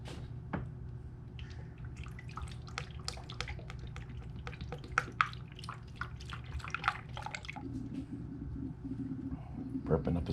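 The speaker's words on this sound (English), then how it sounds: "I guess now I will pour some antifreeze in here" Full-strength antifreeze poured into the radiator of a beach buggy, a faint uneven trickle and scattered drips over a low background hum.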